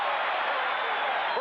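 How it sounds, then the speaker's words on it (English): Football crowd at Shea Stadium during a 1980 Seahawks–Jets game, a steady, dense roar filling the stands without letup, loud and continuous. "Listen to the crowd here at Shea."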